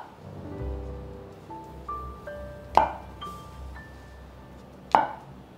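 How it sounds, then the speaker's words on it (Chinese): A knife quarters mushrooms on a cutting board for a vegan sauce, giving two sharp, separate chops a couple of seconds apart over soft, steady background music, with no talking. "准备6个蘑菇，蘑菇切成4等份"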